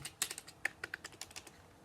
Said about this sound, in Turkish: Yani klavye bu şekilde bu şekilde falan tıklanıyor.